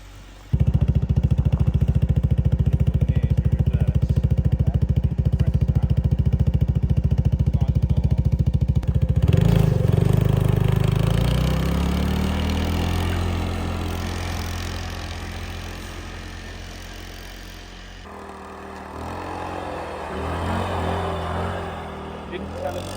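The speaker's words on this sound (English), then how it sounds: "time to go play some snowmobiles" Snowmobile engines on an arctic winter trip, a loud continuous droning idle that rises into revving, then eases and settles back to a lower rumble, steady and close throughout.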